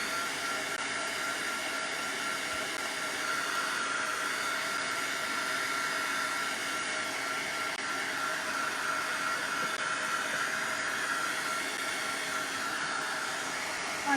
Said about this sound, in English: you can use your heat tool with it